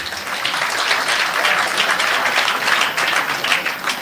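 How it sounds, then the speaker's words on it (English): A crowd at a political party town hall forum in Kingston and St. Andrew claps loudly and continuously, a thick, even roar of many hands filling the hall with no talking. "I want you to give the Comrade Leader another hand clap for me"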